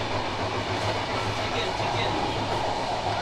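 Ruposhi Bangla Express passenger train running from Dhaka toward Benapole, heard from inside a carriage as a steady, loud rumble with rhythmic clatter throughout, with no pauses.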